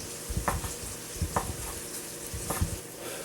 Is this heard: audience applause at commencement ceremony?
no